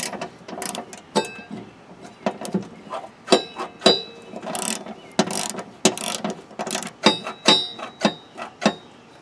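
A hand ratchet tightens a bolt on a John Deere L, LA, D or E series mower deck. Close, crisp clicking comes in quick repeated bursts with short pauses between strokes.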